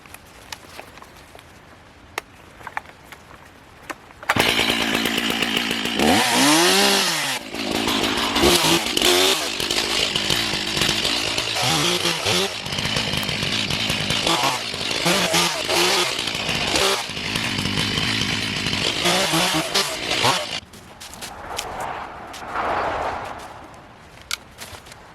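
Chainsaw cutting branches from the base of a 140-foot fir tree being cleared for felling, loud and sustained for about sixteen seconds with revving surges and bogging under load, dropping to quieter idle near the end.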